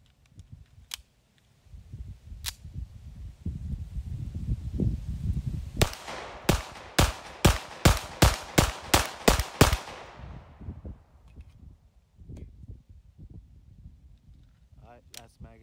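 About ten sharp gunshots from a Rock Island Armory Ultra FS 1911 9mm pistol at an outdoor range, fired in a steady, evenly spaced string, loud and close, with wind noise and a few scattered earlier pops around them.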